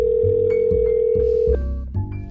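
A steady telephone tone sounds loud and close while a phone call is being placed. The tone holds for about a second and a half, then shifts into changing electronic call tones.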